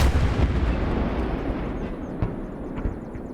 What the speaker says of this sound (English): Alright, here goes the flak.